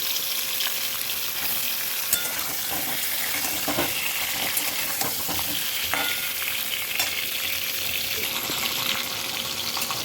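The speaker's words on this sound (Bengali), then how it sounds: "এবার পটলগুলো আমি খুব বেশি লাল লাল করে ভাজবো না হালকা ভেজে নেবো" Steady continuous sizzle of pointed gourd (potol) pieces lightly frying in oil in a pan, a dense crackling hiss throughout with occasional small pops and a faint clink, no talking.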